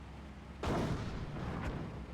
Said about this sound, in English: He has gone for a counter barrage mortar.